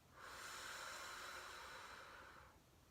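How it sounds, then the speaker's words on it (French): A single long exhale during a Pilates exercise, a soft, steady breathy hiss that swells in, holds for about two seconds, then fades, faint and close with nothing else heard. "inspirez, soufflez, inspirez,"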